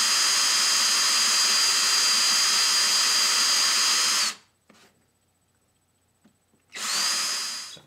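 A power drill bores dowel holes where a ukulele neck joins the body, a steady loud whine for about four seconds that stops abruptly, with a brief quiet pause before a second burst of drilling starts near the end.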